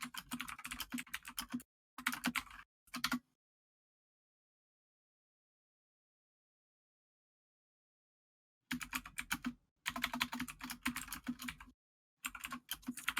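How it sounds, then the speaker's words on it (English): Forceful typing on a computer keyboard: rapid, hard clacking keystrokes in bursts, with a long silent gap between the first and second groups, close and clear, with no talk. "It was just forceful typing."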